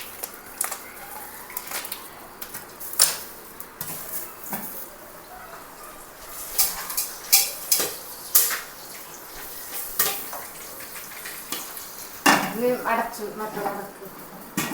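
Popcorn pops in a covered pan in a home kitchen as scattered sharp pops and clatters at an irregular, quickening pace, with a faint voice in the background.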